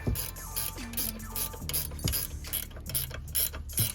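Ratchet snugging a bolt during a rear brake job on an Acura TLX: rapid, close mechanical clicking in repeated bursts, with short pauses between strokes, loud and alone.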